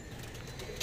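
Soft pigeon coos murmur low and steady beneath a faint outdoor hiss, with a brief brighter rustle near the end.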